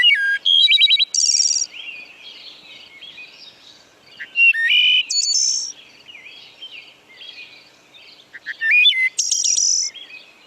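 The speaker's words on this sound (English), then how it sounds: "This is a wood thrush." A recording of a wood thrush plays, repeating its fluting song in three phrases, each a few clear notes followed by a rapid trill, loud and near, with insects buzzing faintly underneath.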